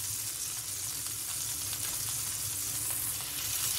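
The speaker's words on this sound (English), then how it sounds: "By searing, what we're doing there is we're keeping the moisture in." A rib eye steak sears in a cast iron skillet, giving a dense, even sizzle that holds steady for a few seconds at close range with no talking.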